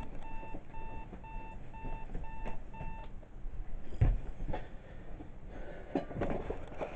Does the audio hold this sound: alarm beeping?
yes